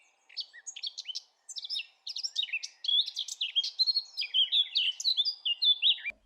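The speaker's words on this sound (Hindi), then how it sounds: "और फिर वो चिड़िया उस बेल के लिए संगीत गाती है।" A cartoon bird sings to a pumpkin vine in a steady run of bright, high chirps and warbling trills, close and clear with no other sounds underneath.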